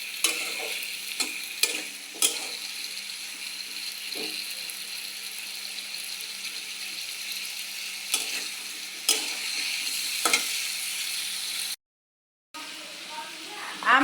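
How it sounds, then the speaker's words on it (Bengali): Food sautéing in a pan before mustard goes in, giving a steady sizzle throughout with sharp scraping and clicking stirs of a spatula, broken by a brief dropout near the end. "এটা যখন একটু কষানো হয়ে যাবে তখন হচ্ছে আমি দিয়ে দেবো সরিষাটা দিব।"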